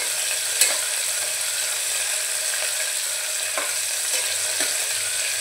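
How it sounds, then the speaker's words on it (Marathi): Finely chopped onion and curry leaves frying in hot oil, giving a loud, steady hiss and crackle throughout, with a few light clicks of a spoon stirring in the pan, close and without talk. "आता आपण जो कांदा घेतलाय बारीक चिरून आणि कढीपत्ता तो घालूया।"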